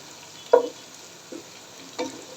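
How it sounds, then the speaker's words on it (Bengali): Onions fry in a pan, a faint soft sizzle with three brief scraping stirs of a spatula spaced about a second apart. "পেঁয়াজ ভাজা হচ্ছে"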